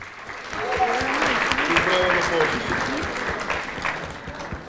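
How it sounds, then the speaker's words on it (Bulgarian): Applause swells from a seated audience at the closing of a QA tech conference in Bulgaria, rising quickly into steady clapping while a few voices talk underneath, then slowly tapering. "Аплодисменти за Виктория"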